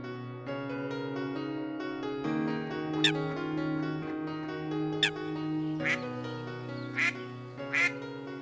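A duck quacking in several short, raspy bursts spaced a second or two apart, heard over a continuous layer of gentle sustained music, moderately close and clear.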